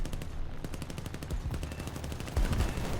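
Aircraft guns fire in rapid, continuous bursts in a flight video game, a steady machine-gun rattle lasting throughout with a heavier thump near the end, close and loud with no talking.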